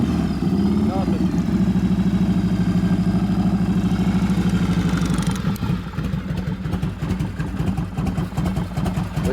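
A 1983 Harley-Davidson FXRT shovelhead motorcycle engine runs close and loud with a steady lumpy idle, then its pulsing throttle rises slightly toward the end, with talk partly over it.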